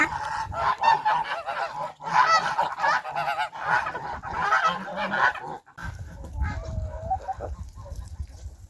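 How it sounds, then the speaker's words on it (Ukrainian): A flock of geese honks loudly and repeatedly, calls overlapping in a noisy chorus, with a low rumble joining near the end. "ось такий базар пташинний"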